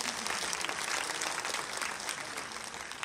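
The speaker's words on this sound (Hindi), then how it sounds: "सहमत है तो ताली बजा दीजिए" An audience at a rural women's empowerment gathering in Bansur claps together, a faint, steady round of applause heard from some distance.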